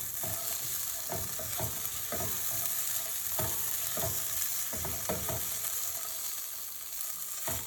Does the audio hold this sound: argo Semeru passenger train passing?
no